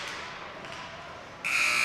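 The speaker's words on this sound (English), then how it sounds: "The buzzer sounds, and we've gone to the second intermission" Buzzer ending the second period of a high school hockey game between Guido de Bres and CVCA, sounding as a loud, steady electronic tone that cuts in near the end over arena crowd noise.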